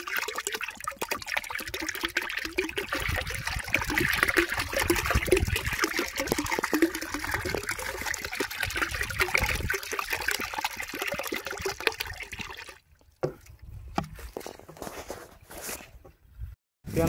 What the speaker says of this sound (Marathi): अशा रीतीनं आपण हे राऊंडअप ह्यामध्ये मिक्स करणार आहोत